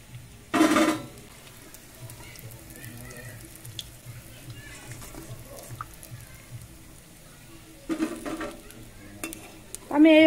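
Puli pitha dumplings fry in oil with a low, faint sizzle, broken by a few sharp metallic clatters of a strainer or utensil against the pan, close by.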